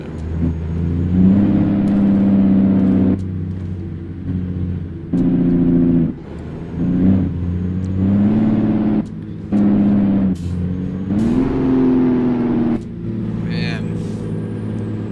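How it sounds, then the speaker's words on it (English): A heavy truck in American Truck Simulator, a video game, drones with loud engine braking, the low rumbling roar cutting in and out in repeated stretches under intermittent talk. "the Jake brakes are putting in the real effort right here"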